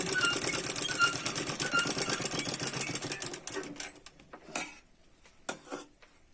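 Sewing machine stitching cloth during a tailoring lesson, a fast steady mechanical rattle for about three seconds that slows and stops, followed by a few isolated clicks and knocks nearby.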